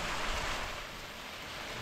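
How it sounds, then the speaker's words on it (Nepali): Steady rain falling outdoors at a resort in Panchkhal, a continuous even hiss with no breaks, fairly close and unaccompanied by voices. "अहिलेसम्म पनि पानी परेर रहेछ"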